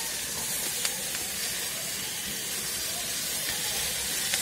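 Onions and whole spices frying in a pan for a restaurant-style paneer butter masala, a steady broad hiss of oil sizzling throughout with a few faint clinks, continuous and fairly close.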